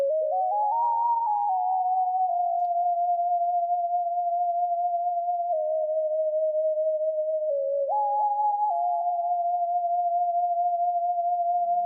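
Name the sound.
synth lead sound from a free VST plugin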